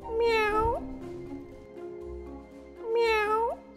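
Two long, rising-then-falling cat meows from The Cat Machine video game, each loud and close with rich harmonics, separated by a quiet stretch of low background music.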